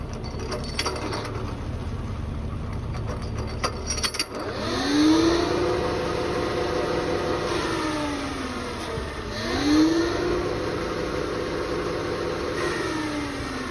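A grass mower attachment on a Kubota KX033 excavator spins up with a steady mid-pitched engine drone, rising twice in whining sweeps as the hydraulic drive revs, with no talking.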